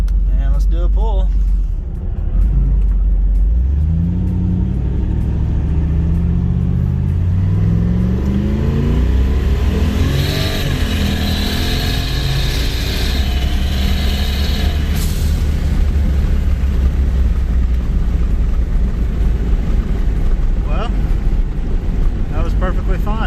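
A Nissan 240 pulls hard under heavy throttle, its engine note rising loud and continuous through the revs with strong wind rush over the microphone, close inside the car, and nobody speaking.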